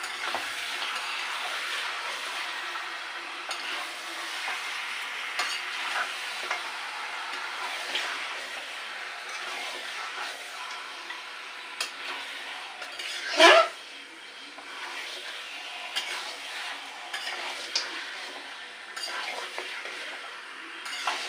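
Mutton curry frying in a pan is stirred with a utensil, a soft continuous sizzle with scraping and clinks, and one sharp metallic knock against the pan partway through.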